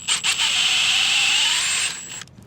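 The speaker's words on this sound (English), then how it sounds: "I'm gonna do my drilling through the wood actually inside" A power drill bores through wood in one loud, steady whine lasting about two seconds, starting and stopping abruptly, close up with quiet surroundings.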